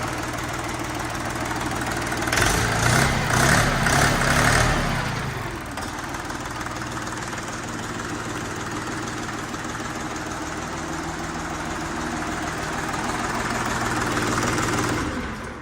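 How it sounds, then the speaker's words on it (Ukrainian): A small Laidong diesel engine in a Bulat 244 L mini tractor idles steadily with a low, knocking rumble. It is louder and busier for the first few seconds, then settles into an even idle. "Ось так працює КМовський двигун від компанії Лайдон."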